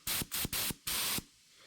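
Spray gun hissing in four bursts over a clay baby hand mold, three short blasts then a longer one, close and loud, ending in near silence.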